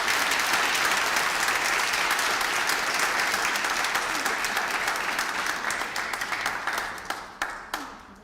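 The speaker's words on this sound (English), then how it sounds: "An extra applause" A large crowd at a master's graduation ceremony applauds steadily for a cum laude graduate, the dense clapping holding strong and then thinning into scattered individual claps near the end.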